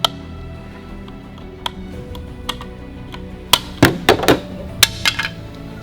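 Plastic trim pried off a Ford Bronco with a trim removal tool, starting with faint sporadic ticks and building to a cluster of sharp, close clicks and snaps as clips pop loose, with no talking.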